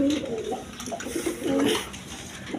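Satin pigeons, a breeding pair, give soft, low repeated cooing close by, a few rolling coos in short bursts over quiet background noise.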